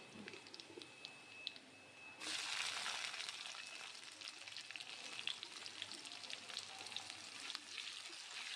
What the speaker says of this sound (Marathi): लसूण छान भाजलेला आहे, त्यात आपण कांदे टाकूया।